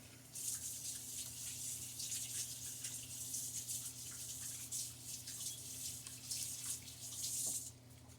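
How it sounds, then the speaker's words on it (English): Hands washed under a running kitchen tap while cooking, a steady rushing water flow with soft splashing and drips, close and continuous, no voices. "All right, again, wash the hands."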